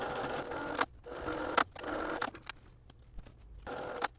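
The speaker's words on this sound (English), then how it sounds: "Now I'm going to just go to my machine and top stitch the edges here and here, here and here." A sewing machine top stitches the edges of a side panel girl's dress with a 2mm straight stitch, running in several close, even bursts separated by brief pauses.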